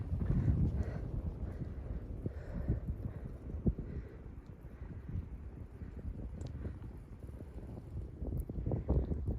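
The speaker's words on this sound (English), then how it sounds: "The wind's blowing ever so gently." Gentle wind blows across a mountain trail on the Appalachian Trail, a soft steady rush with low rumbling buffeting against the microphone and no talking.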